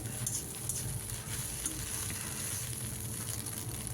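Egg podimas sizzles and crackles steadily over a high gas flame, a dense close frying hiss with faint stirring scrapes throughout, no voices.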